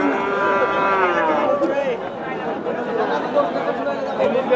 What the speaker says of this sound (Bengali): ষাঁড় বাচ্চা দেখছি।